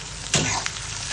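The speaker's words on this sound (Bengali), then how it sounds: "পেঁয়াজগুলো একটু ভেজে নিচ্ছি। এখন আমি দিয়ে দেবো যে গোটা রসুনগুলো রাখলাম সেগুলো।" Onions with whole garlic cloves fry in a pan, a short close sizzle with a quick stir or scrape in the middle.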